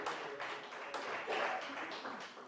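A church congregation applauds loudly after a preacher's call to praise, a dense, steady wash of many hands clapping close and continuous, with a faint voice mixed in.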